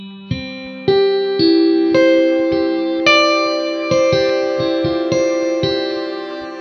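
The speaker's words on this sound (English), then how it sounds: "And then if you increase it, you get a more bright and present sound." Ambient cinematic guitar from a Kontakt Player library with a bright EQ setting, playing a slow sequence of about eight sustained plucked notes and chords with crisp attacks and a shimmering, reverberant upper range, heard alone.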